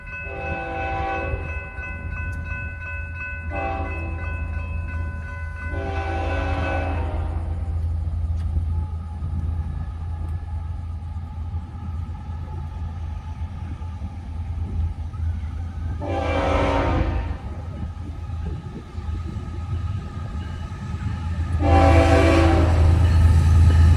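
Train 206 rumbles through the Aurora Road level crossing in Melbourne, Florida, with a continuous heavy low roar while its horn sounds in five separate blasts, two short, one longer, then two more spaced apart, loud and close.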